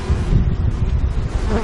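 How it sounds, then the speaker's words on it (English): Loud, close buzzing of many bees, a steady droning hum that wavers slightly without pause. "Oh, we've got bees that are not happy."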